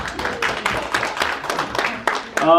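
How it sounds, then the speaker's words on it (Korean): A small crowd claps in a brief round of applause, the claps fairly steady and close, with some voices mixed in. "박수 한번 주시죠."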